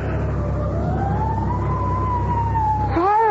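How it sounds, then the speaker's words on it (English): Fire engine siren in a radio drama sound effect, a sustained wailing tone that rises and holds loud over steady traffic rumble, with a second siren sweep starting near the end. "Fire engine?"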